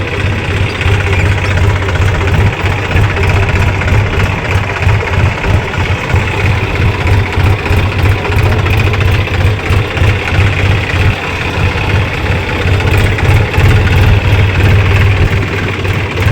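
A tractor engine runs steadily in hilly terrain, a loud, continuous low idling rumble with a slight knocking pulse that holds throughout, with no voices.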